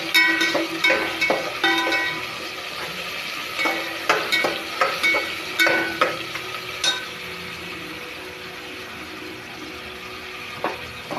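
Chopped tomatoes sizzle in a hot pan for Kongu rice, a steady fry broken by repeated scrapes and clinks of a spoon stirring against the metal.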